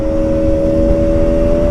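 A motorcycle engine hums at a steady pitch while riding along a road from Kargil toward Leh in Ladakh, close and constant with rushing wind beneath and no voices.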